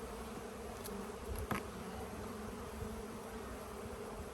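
Honeybees from a strong hive buzz steadily throughout an open hive inspection, a dense, continuous close-up drone with a brief louder swell as bees pass near.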